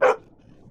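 Mortimer the dog lets out a single sharp, close bark that dies away quickly into quiet.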